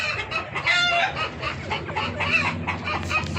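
Spotted hens kept for laying cluck in short, repeated bursts close by, several birds overlapping in a busy, continuous chatter.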